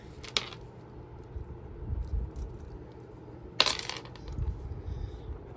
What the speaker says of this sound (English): let's just take off the pull chain fobs so I don't lose them